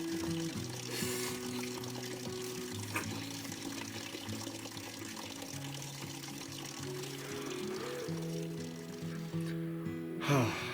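Water trickles and pours out of a twisted section of tree trunk in the woods, a steady close liquid stream with faint background music and no speech.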